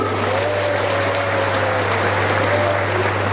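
An audience at a provincial ceremony for a teachers' association anniversary and National Teachers' Day applauds teachers, a dense, steady clapping heard loudly throughout over a constant electrical hum.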